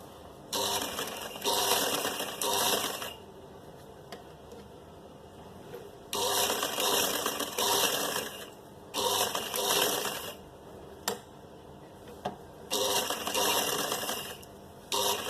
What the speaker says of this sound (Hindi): अब यहाँ से सिलाई लगाते जाएंगे।